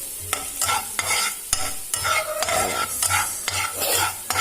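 Garlic and ginger sautéing in a pan for Gobi manchurian, a loud close sizzle broken by rhythmic stirring scrapes roughly every half second.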